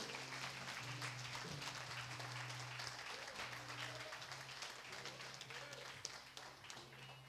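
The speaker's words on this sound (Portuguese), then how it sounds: "Você pode aplaudir o Senhor, amém?" Congregation applauding during a church service, sustained dense clapping from a full room that runs throughout, with faint voices mixed into the crowd.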